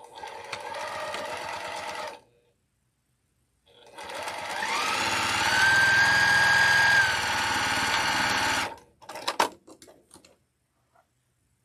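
A sewing machine runs steadily as it stitches a fabric seam in two loud, continuous bursts separated by a pause, followed by a few short clicks and taps.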